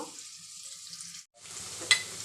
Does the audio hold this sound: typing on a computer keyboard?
no